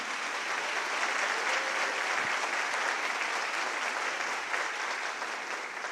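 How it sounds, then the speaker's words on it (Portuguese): Dense, sustained applause from a church community for visiting friars, a thick, steady roar of many hands clapping at close range without letting up. "Uma salva de palmas para eles"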